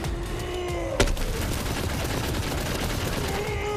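Gunfire in the Borderlands 3 video game: one sharp loud shot stands out early over a dense, continuous wash of game noise and faint tonal effects.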